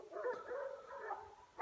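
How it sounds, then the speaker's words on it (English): Dogs whimpering and yipping nearby in a short, faint burst of high whines, with no speech. "these are some dogs"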